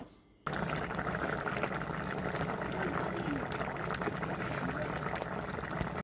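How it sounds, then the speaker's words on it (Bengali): Curry broth for an ol-aloo dalna bubbles steadily at a rolling boil in a pot, a continuous close, moderately loud burbling and simmering that starts abruptly and runs unbroken without talk. "ঝোল এখন টক বকিয়ে ফুটছে"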